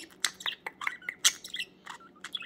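Budgies playing, giving bursts of sharp, bright chirps and short twittering calls in an irregular rhythm, close and clear, with no talking.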